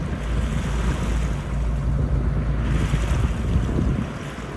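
Waves breaking on a Michigan lake shore near Frankfort, a loud continuous surf roar with gusting wind buffeting the microphone.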